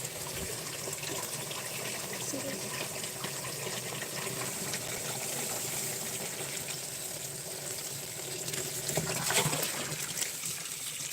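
Borewell pump water flows steadily into a chrysanthemum field, a continuous faint gushing trickle that swells slightly near the end, with no talk.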